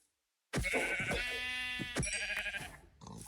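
Several wavering sheep bleats, loud and close, one after another over about three seconds, with a game-like digital sheen, in the video game Forever World.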